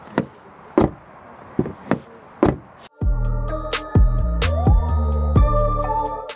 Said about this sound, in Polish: To co jeszcze w tym aucie warto pochwalić, to dźwięk zamykanych i otwieranych drzwi